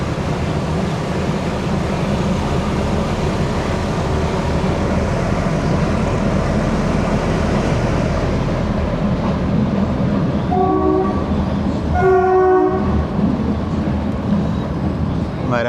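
A meter gauge train runs from Junagadh to Veraval through the Gir Forest with a loud, constant rumble and rattle, and the horn blows a few times near the end.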